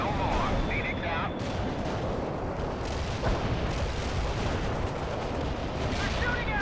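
Battle gunfire and artillery explosions rumble in the World in Conflict strategy game as dense, continuous booms and crackle in the mid distance, with voices talking over the din.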